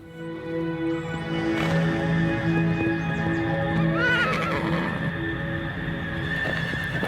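A horse at an animal facility gives a loud, close whinny, with hoof clip-clops and steady outdoor background; no talking.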